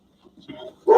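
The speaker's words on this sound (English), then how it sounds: "Yes, there's a dog." A dog locked in a bedroom gives a single loud bark at the end, after a few faint, muffled sounds.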